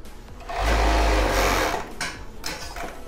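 A sewing machine stitches bra fabric with a steady, close mechanical whir. It rises to full speed for about a second, then eases into lighter, intermittent running.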